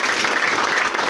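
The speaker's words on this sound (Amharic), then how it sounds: "አጨብጭቡ ለጌታ።" A church congregation claps for the Lord in a dense, loud, continuous burst of applause that fills the whole short moment.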